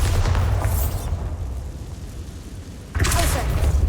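A Bombarda explosion spell in Hogwarts Legacy, a loud deep booming rumble that sustains, dips slightly, then surges again with a bright crackling burst near the end, close and powerful.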